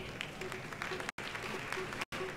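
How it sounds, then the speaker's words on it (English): Audience applause at an African awards ceremony, a fairly quiet, continuous patter of many hands clapping in a large room, broken twice by brief dropouts. "Please, a round of applause one more time."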